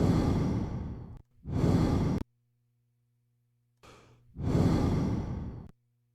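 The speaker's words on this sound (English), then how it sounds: "Did that sound like a legitimate breath to you?" Two long, close breaths recorded as a sound effect for film music, each a breathy exhale-like rush with a short gap between, clearly audible and loud against a faint steady hum.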